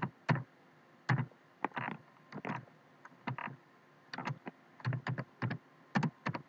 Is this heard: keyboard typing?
yes